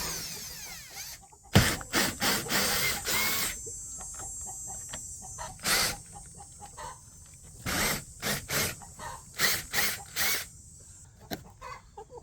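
Power tools buzz and whine in short, repeated bursts while a broken wooden step is taken off, with chickens clucking and a rooster crowing in the background between the bursts.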